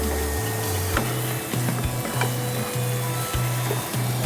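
Burnt garlic hariyali kebabs sizzle steadily in a pan, a constant frying hiss with low rhythmic pulses and occasional clicks, close and alone without any voice.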